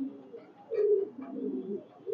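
Red-necked highflyer pigeons at a loft coo in a few soft, low rolling phrases close by, with short pauses between calls and no voices.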